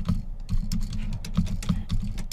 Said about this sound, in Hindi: तो आप यहाँ पे सारी चीजें इजीली कीबोर्ड से टाइप कर सकते हो।